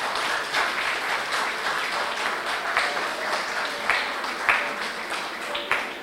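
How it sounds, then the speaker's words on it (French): Applause at a civil wedding ceremony: a small gathering claps steadily for several seconds, a few louder individual claps standing out from the even patter. "Si c'est ça, commencez à applaudir."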